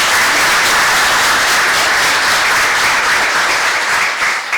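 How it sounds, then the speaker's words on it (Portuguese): Loud, sustained applause fills a public hearing room after a municipal law amendment is approved, a dense, steady roll of many hands clapping close by that tapers slightly at the end. "uma salva de palmas para a aprovação."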